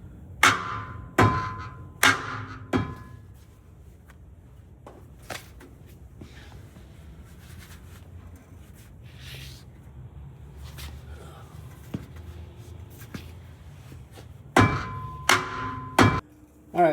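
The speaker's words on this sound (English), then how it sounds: "I'm gonna use a mallet to get this off." Sharp metallic strikes in clusters at the start and end, a mallet hitting a rear brake rotor on a 2013-22 Ford Super Duty F-250/F-350, with quieter knocks and handling noises between them.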